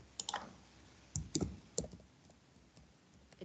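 Typing on a computer keyboard: a few scattered, fairly quiet key clicks in short bursts, close and alone, with no talk.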